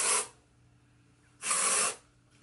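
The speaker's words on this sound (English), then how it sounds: "I feel like this one has a stronger spray than the hydrating." Two short, forceful hissing bursts of a dry shampoo aerosol spray, each lasting about a second with a pause between, then the start of a third.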